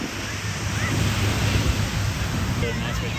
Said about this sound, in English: There's good waves today, but like, holy moly.